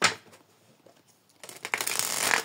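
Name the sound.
shuffling tarot cards for a reading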